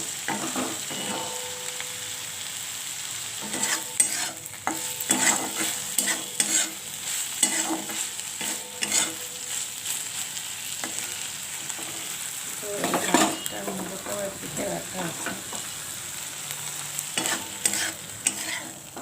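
A continuous sizzle of fish frying fills the clip while a utensil repeatedly scrapes and stirs through the pan, with no talking.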